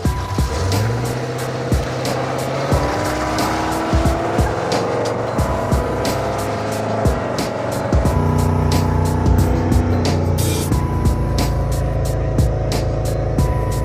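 Rebuilt Ford F100 prerunner truck pulling away, loud engine revs rising through gears with tire squeal and sharp clattering knocks, close and continuous.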